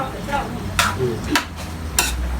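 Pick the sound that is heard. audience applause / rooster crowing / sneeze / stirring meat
stirring meat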